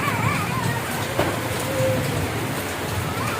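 Steady rain pours down outdoors in a dense, even hiss, with a faint brief tone partway through and no clear voices.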